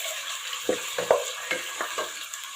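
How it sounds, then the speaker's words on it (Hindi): Chicken browning in a pan over low heat: a steady soft sizzle with a handful of spaced spoon-against-pan knocks as it is stirred, with no voices. "जितनी देर हमारा चिकन फ्राई हो रहा है"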